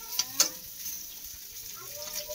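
Fish frying in a pan gives a faint, steady sizzle, with a couple of sharp clicks near the start and a soft hiss carrying on beneath.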